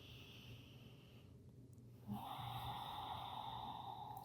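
A slow, deep breath is taken during a yoga stretch for the lower back, hips and psoas. It is a quiet, airy inhale that swells about halfway through and then holds steady, with no talking.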